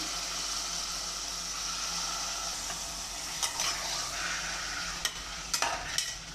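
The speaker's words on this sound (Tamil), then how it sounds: "நெய் சூடாயிட்ட அப்புறமா இந்த மட்டன் போட்டு வேக வைக்கணும். மட்டன் போட்டுக்கிறேன்." Mutton pieces hit hot ghee in a pan for biryani, giving a soft, steady sizzle. Several sharp stirring scrapes and knocks come in the second half, with no talking.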